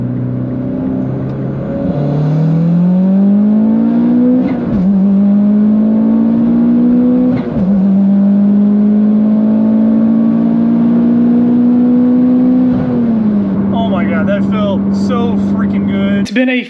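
Mitsubishi Evo X on E85 flex-fuel tune pulling hard from 2nd gear at about 4,500 rpm through the top of 4th, a loud, steady rising engine drone broken by two quick shift dips, then settling and crackling near the end.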